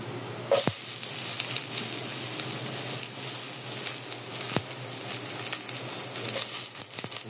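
Chopped onions hit a frying pan already sizzling with garlic, bursting into a sudden loud sizzle that settles into a steady crackling fry, with a few faint stirring knocks.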